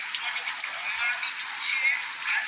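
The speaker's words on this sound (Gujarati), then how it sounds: "આજ તો આખો દિવસનો વરસાદ આવી રહ્યો છે।" Heavy all-day rain pours down in a steady, dense hiss that holds even and unbroken throughout, with no voices standing out.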